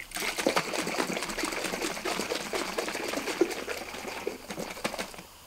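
A jar of vegan protein powder and water is shaken hard, giving a steady sloshing, rattling liquid churn for several seconds at close range with no talking.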